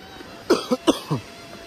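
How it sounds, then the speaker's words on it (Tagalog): A person coughs in a quick burst of about four short, close coughs, then silence. "bumabalik na naman ang ating ubo"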